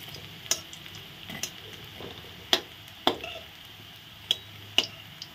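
Banana flower fritters are turned and lifted from frying oil, with a handful of sharp metallic clinks and taps from the utensil over a faint, steady sizzle.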